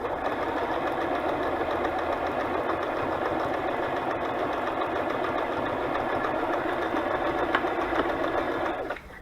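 A sewing machine runs steadily, stitching a zigzag pattern onto a butterfly journal: a continuous close mechanical whir and rapid chatter for about nine seconds, stopping abruptly at the end with no talking.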